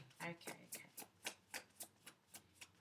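Cards riffle in a run of soft, quick, evenly spaced flicks, close and quiet, with no voices.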